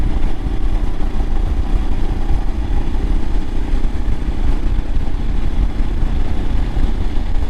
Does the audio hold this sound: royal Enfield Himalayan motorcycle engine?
yes